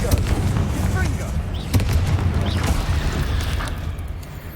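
A Confringo explosive curse spell fired in a wizard video game, heard as a dense run of booming blasts and crackling impacts layered with game noise, loud and continuous, with speech-like voices mixed in.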